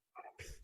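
A single sneeze bursts out during a Zoom call among devotees, a short sharp inhale-and-release captured close to the microphone, standing alone without talk.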